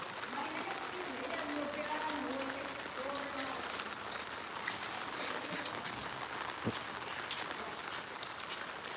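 Steady rain pattering on a house roof that has begun to leak, a continuous dense hiss with scattered drips, while voices talk faintly underneath.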